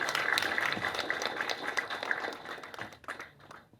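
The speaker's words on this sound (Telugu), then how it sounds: "And a big clap for them." At a movie teaser launch event, an audience claps in a dense burst of applause. It is loud at first, then thins into scattered claps as it fades out.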